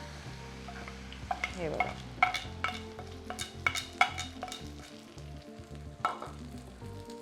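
Omelette batter for an egg uttapam sizzling and frying in hot butter in a pan, a continuous crackling sizzle with sharp scraping and stirring clicks from a utensil, up close, and a brief spoken word over it.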